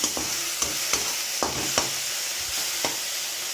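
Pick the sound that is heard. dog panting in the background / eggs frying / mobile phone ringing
eggs frying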